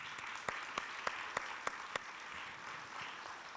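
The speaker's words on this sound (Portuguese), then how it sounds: "Uma salva de palmas, por favor." Faint, steady applause from an audience at a regional and community journalism forum, a soft wash of clapping with a few sharper claps standing out, sounding distant and low in level throughout.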